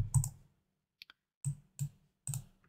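A few separate keystrokes typed on a computer keyboard while entering data into cost estimating software: a firm double click, a light tap, then three more spaced clicks, close and alone in a quiet room.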